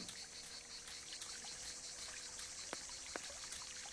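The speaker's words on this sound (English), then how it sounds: "I hear water" Steady flowing river water from the Martha is Dead game world, a continuous broadband wash heard close and alone, with a couple of faint brief ticks partway through.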